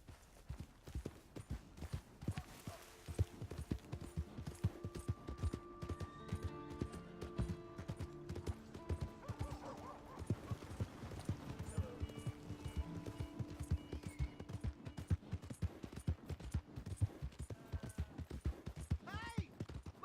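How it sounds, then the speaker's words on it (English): Horse hooves clip-clop in steady, fast repeated beats throughout Red Dead Redemption 2, close and prominent, with background music tones underneath and no talking. "Hey! My horse!"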